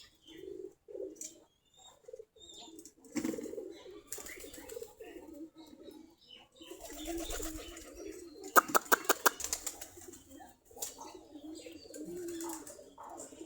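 Native Giribaz pigeons coo in scattered soft bursts near their loft, with a quick run of sharp wing claps midway and faint background noise between calls.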